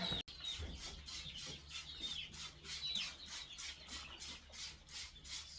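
Several chickens cluck and chatter in repeated bursts, a busy flock of 300-plus birds in a coop nearby, with a low steady hum underneath.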